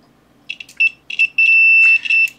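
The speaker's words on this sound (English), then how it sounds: "we should get beep, beep, beep" A multimeter set to continuity mode with hook clip test probes beeps in short electronic bursts, first choppy and intermittent, then as a sustained steady tone broken by a few brief gaps near the end.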